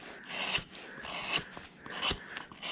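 A number 5 gouge carves into a wooden block being roughed out by hand, giving repeated scraping, rasping cuts in short strokes, close and fairly loud, with no voices.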